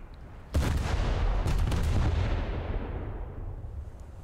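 Naval gunfire in War Thunder naval battle, a single heavy boom hitting suddenly, followed by a second blast and a long rumbling decay, no talk.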